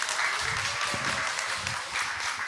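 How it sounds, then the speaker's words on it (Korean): Church congregation applauding to welcome the pastor at a Friday evening special worship service, a steady wash of many hands clapping that holds at an even level throughout, with faint low murmurs beneath. "우리 목사님 나오실 때 따뜻한 격려의 박수로 환영하겠습니다"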